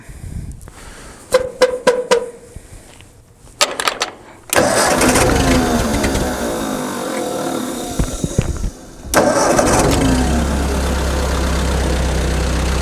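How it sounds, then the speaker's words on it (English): A 1952 Ford 8N tractor engine is cranked with several short stuttering attempts, then catches and runs loudly and steadily close by, with a brief dip before settling into a low rumbling idle. "Hopefully it'll start up."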